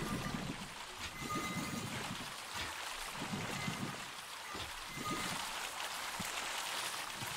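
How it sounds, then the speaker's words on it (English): Water trickles and splashes steadily from a hand pump in the Raft survival game, a soft continuous flow with gentle gurgling bursts, close and moderately quiet. "Okay, water's going down there."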